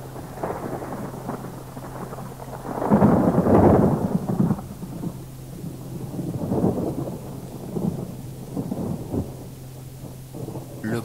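A night thunderstorm over a city: continuous low rolling thunder swells and fades in repeated rumbles, with a loud peak early on, over a steady hiss of rain and wind, with no voices.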